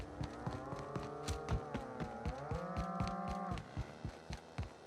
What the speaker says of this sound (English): Were those cows synchronized mooing?